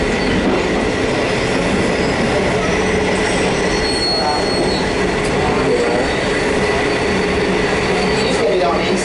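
A train slowing to a stop on its rails, wheels squealing in a loud continuous high screech over steady rumbling and faint clicking of the cars, close by inside or beside the carriage.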